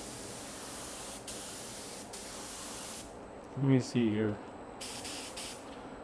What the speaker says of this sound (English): It's not spraying good?